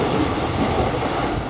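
A train pulling away from Barga Road railway station gives a brief, steady, close rumble of rolling wheels and carriages with no voices.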